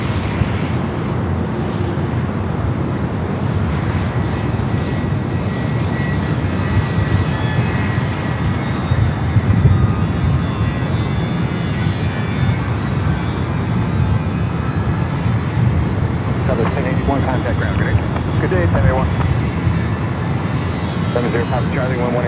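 A fixed-wing aircraft at San Diego airport makes a loud, steady engine roar that runs for the whole stretch, with no breaks and no change in level.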